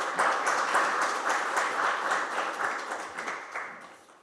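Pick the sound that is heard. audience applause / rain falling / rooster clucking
audience applause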